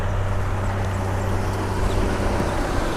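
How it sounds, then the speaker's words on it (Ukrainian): A Vaderstad seed drill sows corn in a strip-till field over mulched corn stubble at about 12–13 km/h, heard as a loud, steady tractor engine drone with continuous low rumble, no speech. "Отак працює сівалочка."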